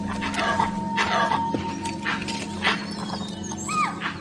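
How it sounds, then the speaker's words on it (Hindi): Jungle animals in Kabini forest give sharp alarm calls warning of wild dogs (dholes): repeated yelping, barking cries at irregular intervals over a low steady hum, with chirpy calls near the end. "ये अलार्म कॉल्स मुझे लेकर नहीं दी जा रही।"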